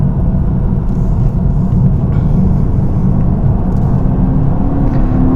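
A car drives along a road with a steady low engine rumble and road noise throughout, braking into a right-hand bend and changing down to second gear, with a faint rising whine near the end.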